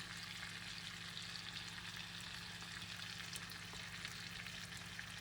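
Minced garlic and onions fry in a pan with a dense, continuous sizzle that stays loud and even throughout, with faint stirring mixed in.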